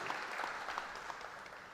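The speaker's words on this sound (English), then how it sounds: "can we get another applause for Jordan Dean Allen, Dilly Mozek, and our" Applause from an audience at a donors and scholars reception fills the room, a dense, steady wash of many hands clapping at moderate distance, holding evenly for under two seconds.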